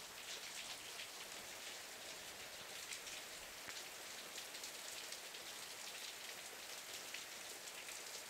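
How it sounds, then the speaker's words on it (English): Heavy Florida rain pours down steadily in a sudden downpour, a dense, continuous hiss of drops drumming on surfaces, loud and unbroken throughout with no voices. "we got some Florida rain going on out there."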